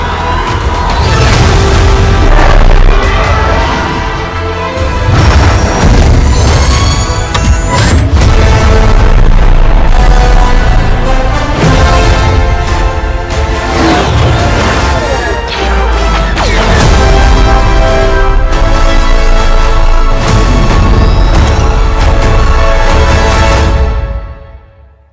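Loud, dense space battle from Star Wars: Squadrons, with starfighter lasers firing and explosions booming almost constantly over a driving orchestral score, all fading out at the very end.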